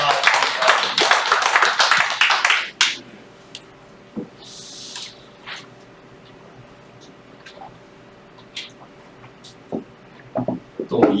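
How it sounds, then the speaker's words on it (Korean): A church congregation claps together, a dense burst of many hands that stops abruptly after about three seconds. Near-silence follows, broken only by a few scattered taps and small rustles. "우리 하나님께 영광의 박수 하겠습니다"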